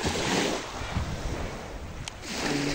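Steady roar of surf rolling onto a shore, with wind buffeting the microphone throughout; no voices.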